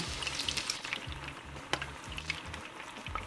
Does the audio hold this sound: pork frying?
yes